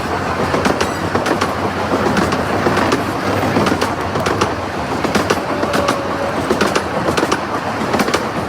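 A miniature railway train at Ruislip Lido Railway rumbles steadily along the track with rhythmic clicks and occasional faint wheel squeals on curves, close by and loud, with no voices.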